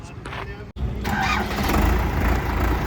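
A heavy Indo Farm 3060 4x4 tractor engine rumbles steadily after a brief cutout, running at a constant idle close by, with faint voices in the background.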